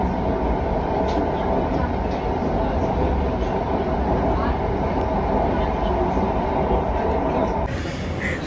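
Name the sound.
Mumbai metro train running near Andheri West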